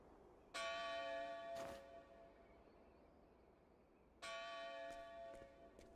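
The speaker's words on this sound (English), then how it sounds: "the Bell of Dawn" The Bell of Dawn rings in Octopath Traveler II with two deep, resonant strikes several seconds apart, each ringing out in long, shimmering tones that slowly fade between the strokes.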